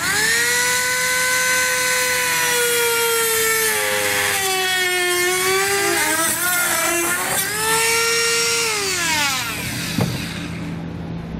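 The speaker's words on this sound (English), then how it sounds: "I'm going to be using a rotary tool, but you can use a knife or whatever you have available." Rotary tool trimming a plastic bumper fascia on a 2012 Volkswagen Passat during a trailer hitch install, a loud high-pitched whine that rises and falls in pitch as the tool loads and frees up in the plastic, continuous and close.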